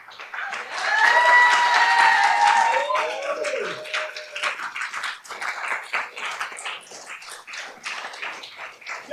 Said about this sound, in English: Keep that applause going for your next poet.